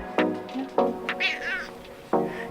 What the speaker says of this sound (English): Cats really love me.